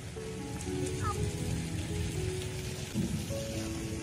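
Steady rain falling outdoors during kite flying, a constant hiss of drops on surfaces, with faint tonal whines and a brief bump partway through.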